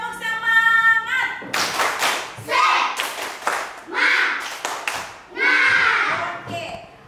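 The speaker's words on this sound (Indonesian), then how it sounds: "Tepuk semangat dulu" Primary-school students in a classroom perform a rhythmic spirit clap, several bursts of group clapping in a patterned beat, with children's voices and chanting mixed in.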